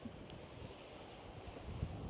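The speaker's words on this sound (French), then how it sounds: "Oh là là, le vent." Steady rushing wind buffeting the microphone at Fort la Latte, a broad continuous roar with gusty low rumbles and no speech.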